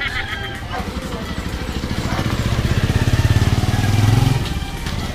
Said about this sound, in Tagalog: Ito yung motor namin.